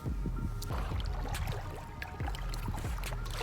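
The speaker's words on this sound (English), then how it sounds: "We are kayaking in mangroves." A kayak moves through mangroves with soft paddle splashes and water drips in an irregular rhythm, close to the microphone, over light wind rumble.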